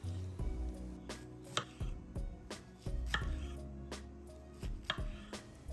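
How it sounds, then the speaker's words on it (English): Knife chopping frozen tofu into bite-sized pieces on a cutting board, a steady series of close, crisp thuds at an uneven rhythm, heard alone without talk. "Then I cut the tofu into bite-sized pieces."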